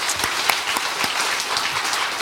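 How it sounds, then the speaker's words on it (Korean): A church congregation applauds at a Korean service honoring deaconesses, steady crowd clapping throughout with dense overlapping claps at a moderate distance. "우리 축복하는 마음으로 박수 한번 하겠습니다."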